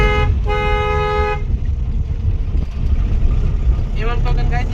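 An Ashok Leyland truck's horn blasts twice, a long tonal honk followed by a shorter one, loud and close over a rumbling engine and road noise.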